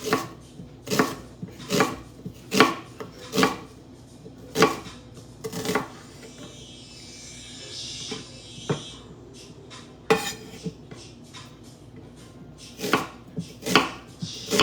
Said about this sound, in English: Just cut you up an onion, but the whole onion.